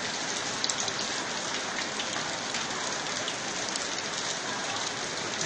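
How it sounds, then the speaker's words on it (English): Steady heavy rain pouring down in Port Harcourt, with water streaming off rooftops, a dense, unbroken hiss close to the microphone throughout with no voices. "It just started raining a few minutes ago."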